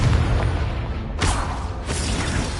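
Confringo explosive spell in Hogwarts Legacy, two loud booming bursts about half a second apart rolling over a dense, rumbling game background with no speech.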